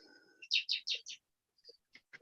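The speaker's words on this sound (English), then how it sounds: "there's some birds outside." Several quick, bright bird chirps in a short burst, followed by a few softer, sparser calls, close by with no talking.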